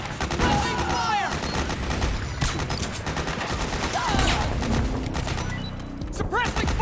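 Gunfire in Metal Gear Solid 4: Guns of the Patriots, dense overlapping bursts and rapid automatic shots crackling continuously across the scene, mixed with shouted soldier commands and battlefield noise.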